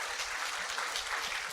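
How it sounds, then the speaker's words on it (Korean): Korean church congregation claps during a Sunday service, a short, fairly soft patter of many hands heard alone without speech. "우리가 좀 박수를 좀 하면 좋을 것 같습니다."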